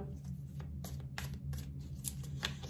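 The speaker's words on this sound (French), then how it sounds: "Je vais tirer 5 cartes." Tarot cards drawn one by one from a deck, giving faint, crisp card snaps and slides in a quiet room, about five short papery clicks spaced across a steady low hum.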